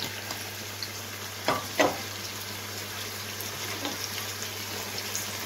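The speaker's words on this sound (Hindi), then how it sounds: "इन्हें डालकर हमने अच्छी तरह से भून लेना है" Spices such as ginger and garlic powder frying in a pan for mutton pulao, a soft steady sizzle with a couple of brief stirring scrapes, fairly quiet and without talk.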